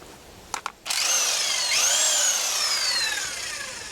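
An impact wrench with a half-inch socket loosens a Toyota Camry strut bolt, opening with a few short blips before spinning up into a loud, steady whine that shifts pitch and trails off slightly.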